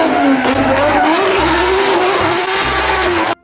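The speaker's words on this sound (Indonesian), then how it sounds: "Mobil balap warna merah." A red toy race car plays an electronic racing sound, a loud continuous engine whine with tire squeals and a low pulsing beat, heard alone and close.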